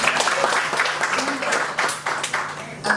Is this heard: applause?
yes